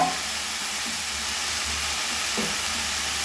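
Soybeans frying in a pan for egg soybean khichdi give a steady, close sizzle with faint stirring scrapes, heard on their own with no talking.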